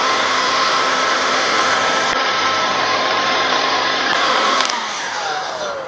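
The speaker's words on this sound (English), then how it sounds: "Here I've got a Steinel heat gun." A Steinel heat gun blows a steady, loud airy roar with a faint whine as it heats a surface to soften sticker glue, continuous throughout and easing off slightly near the end.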